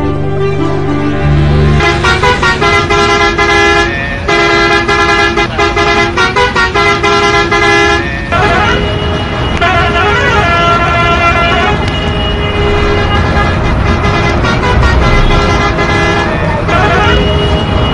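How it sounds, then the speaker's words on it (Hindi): Loud vehicle horns honk repeatedly in traffic, several overlapping blasts and toots of different pitches sounding close by, over road noise. "हॉर्न की ये तेज आवाज सुनकर आप परेशान हो गए हों।"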